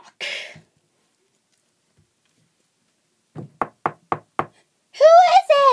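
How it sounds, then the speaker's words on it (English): Four sharp knocks on a house door in a cartoon setting, evenly spaced and close, preceded and followed by speaking voices. "We should knock."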